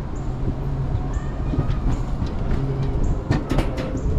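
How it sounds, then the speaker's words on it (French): A sled on the Smoky Mountain alpine coaster rolling along its rail through magnetic braking, a continuous loud rumbling roar with faint whirring and a few sharp clicks near the end, close up with no talk. "Alors il y a du freinage magnétique, c'est très marrant. Il y a du gros freinage magnétique."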